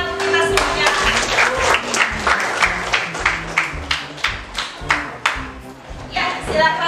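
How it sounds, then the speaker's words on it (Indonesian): Classroom applause from students, a dense patter of clapping with rhythmic bursts running throughout, steady and fairly loud, with some voices mixed in. "Tepuk tangan untuk kita semuanya."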